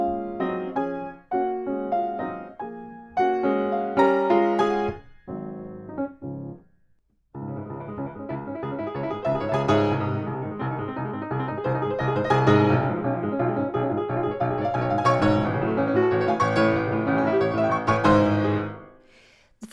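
Grand piano thundering through the furious final movement of the Moonlight Sonata, fast dense arpeggios and hammered chords after a brief pause, loud and continuous with no talking.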